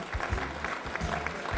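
Audience applause at a Lithuanian Independence Day ceremony honouring nominees, including a rural tourism homestead director; steady clapping with broad noisy texture throughout, a few low voice-like bursts underneath.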